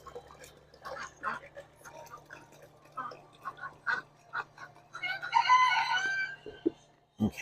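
Backyard flock of chickens clucking and murmuring, with a rooster crowing loudly midway, close by, over a low steady hum.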